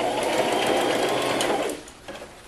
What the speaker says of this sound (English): so now I'm gonna go ahead and sew